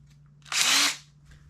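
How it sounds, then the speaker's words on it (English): A power drill spins a homemade fishing line remover in one short, loud whirring burst of about half a second that rises and fades, with a faint hum before and after. "put them in your drill"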